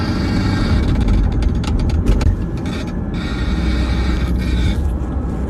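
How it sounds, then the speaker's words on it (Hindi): On a BMW 320D under acceleration, a continuous rattling buzz comes from the center console, loud and close, riding over steady engine and road noise with busier bursts partway through. "जैसे गाड़ी को एक्सीलरेट कर रहे हैं तो ये आवाज़ आ रही है"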